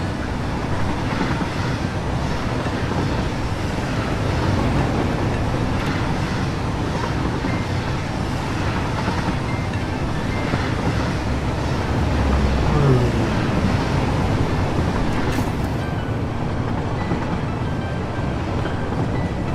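A video-game train rolls along the rails in a steady, continuous rumble with a soft wind-like wash over it, fairly loud and close for the whole stretch, with no voices.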